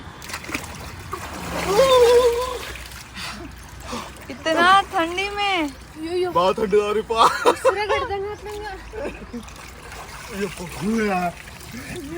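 People plunge into very cold water with splashing and sloshing, while excited voices and shouts rise and fall over the water noise.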